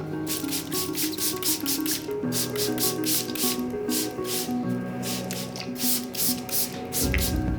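Spray bottle misting water onto curly hair at the roots, a rapid series of short hissing spritzes in an uneven rhythm, close and fairly loud with no talking.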